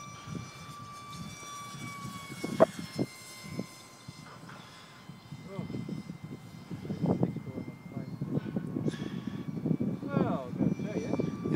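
A radio-controlled electric model airplane on a trim test flight, its faint motor whine drifting in the distance beneath steady wind noise and people talking nearby throughout.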